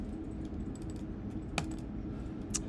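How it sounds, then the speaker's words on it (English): A computer mouse is double-clicked, with a quick pair of sharp, close clicks standing out briefly against a faint, steady room hum; another light click follows about a second later. "So I'm just going to double click on this."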